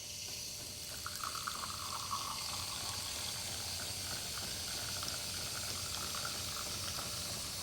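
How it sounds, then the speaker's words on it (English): A Jura Impressa S9 coffee machine steams milk with its Froth Express Plus dial set for steaming without froth, giving a steady hiss with a faint bubbling, constant and close, and no one speaking. "To steam without frothing, move the Froth Express Plus dial to the down position and press the steam portion button."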